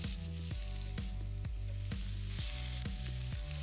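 Chopped onion sizzles and fries in about four tablespoons of oil in a pan, a steady bright crackle with regular pulses, close and alone with no talking.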